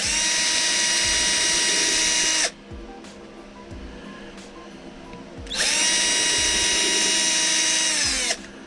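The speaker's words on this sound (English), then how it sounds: "We're drilling all the way through the walnut post." A power drill whines loudly for about two and a half seconds drilling through a walnut post, stops, then runs again for about three seconds, with faint knocks in the pause.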